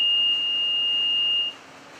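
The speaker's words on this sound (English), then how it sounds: "The alarm that goes like this, with breaks in between, indicates that people should calmly leave the building through the gowning room" Intermittent evacuation alarm in a cleanroom building: one steady electronic beep tone held for about a second and a half, then cut off, leaving a quiet hum of the room.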